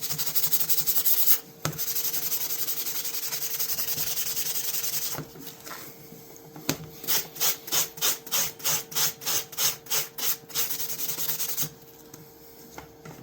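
Hand sanding an antique hammer knife blade with 600-grit paper, a steady scraping rub that gives way to a run of quick, evenly spaced back-and-forth strokes before fading to quiet.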